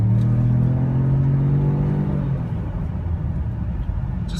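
A 2015 Ford Edge Sport AWD with its EcoBoost engine pulls under acceleration, a steady loud engine drone and rising rumble heard from inside the cabin, with no talking.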